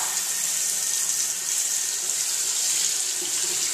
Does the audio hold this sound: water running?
yes